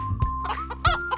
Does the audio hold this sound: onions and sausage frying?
no